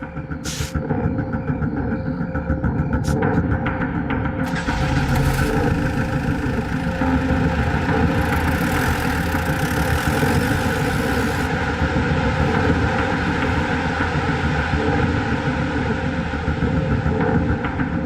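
A car engine drones loudly and steadily for the whole stretch, a continuous rumble with a faint rising hiss partway through and no voices over it.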